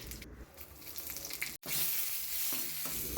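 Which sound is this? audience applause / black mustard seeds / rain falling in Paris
black mustard seeds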